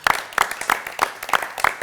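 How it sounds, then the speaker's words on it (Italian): At an evening show, a small group claps in a rhythmic pattern of short bursts close by, with no talking. "Dobbiamo fare un applauso a tutti,"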